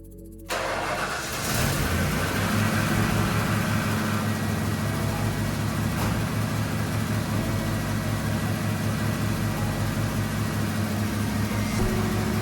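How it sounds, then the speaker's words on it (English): A 1995 Ford F250 pickup engine cranks briefly and catches, then settles into a loud, steady running rumble that continues to the end, close by. "Let's start it up and see what happens."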